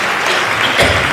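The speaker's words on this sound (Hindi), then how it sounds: "ताली बजा के परमेश्वर को धन्यवाद।" A church congregation at a prayer service claps together in thanks to God, a brief burst of dense, loud, close clapping.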